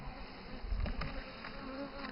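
A honeybee buzzes close by near a hive with a built-in honey super while dogwood is in bloom, a faint, wavering drone with small swells in loudness and no speech.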